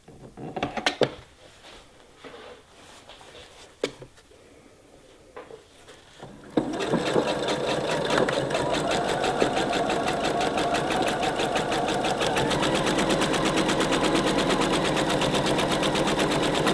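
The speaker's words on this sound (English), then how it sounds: "we're just going to sew straight down and off each side" A sewing machine stitches a zipper into a felt pillow cover: a few scattered handling clicks and soft knocks come first, then the motor starts with a loud, steady, continuous whir of rapid stitching that carries to the end.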